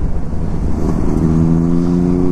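Benelli 600i and Kawasaki 10R motorcycles fitted with full system exhausts roar loudly nearby, a continuous deep engine drone that rises in pitch as they rev past on an outdoor group ride.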